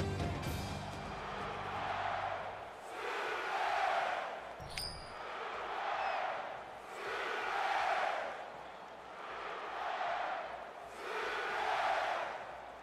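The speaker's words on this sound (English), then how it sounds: "you can feel the thunder in the crowd as they await the start of this game" A college football stadium crowd at TCU versus Oklahoma roars before kickoff, building in steady rhythmic swells about every two seconds, like a chant rising and falling, loud and distant-sounding with no clear talk.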